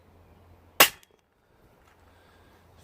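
A single sharp crack from an HW45 air pistol fired on low power, with the pistol cocked halfway and the pellet fired over a chronograph, followed by quiet.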